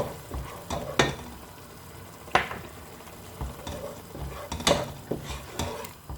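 Masala of turmeric, chilli and coriander powder cooking in a pan for prawn biryani, a soft sizzle broken by several sharp spoon scrapes and clinks against the pan, close and without talk.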